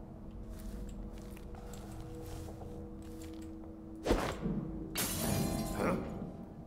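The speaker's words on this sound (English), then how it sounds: "That sounded like broken glass." Glass shattering in the video game Dishonored 2, a sudden loud crash midway that gives way to a second burst of scattering shards over a low ambient game background.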